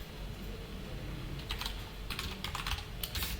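Faint, close computer keyboard typing while entering code: scattered quick keystrokes in short bursts over a low background hum.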